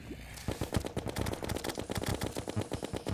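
A gun in Terraria fires in quick repeated bursts, a fast rhythmic stream of sharp close shots running steadily after a short quiet start.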